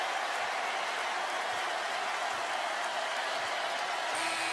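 Raucous basketball crowd at a Tennessee game, a dense, steady roar of cheering and applause filling the arena without a break.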